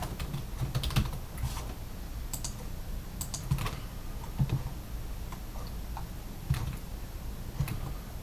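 Computer keyboard typing while configuring a DE10-Nano FPGA hardware adder project, a steady run of close key clicks with a few louder taps, alone without talk.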